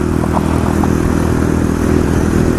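A single-cylinder 250 motorcycle engine runs steadily and loudly up close, a constant throbbing drone with no clear revving or pauses.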